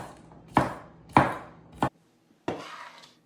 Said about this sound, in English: Then I need some scallion or green onion, which I'm just going to roughly chop.